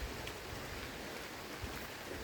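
Rain falls on a pigeon house in a steady, soft hiss of drops, faint and continuous with no voices.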